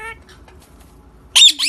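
A pet bird lets out a loud, sharp burst of squawks and squeaks near the end, after a stretch of soft background murmur.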